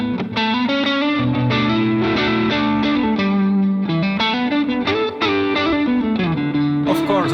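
An electric guitar intro, a driven, overdriven tone with chorus and reverb, dense melodic lead and rhythm lines played continuously and loudly with no voices.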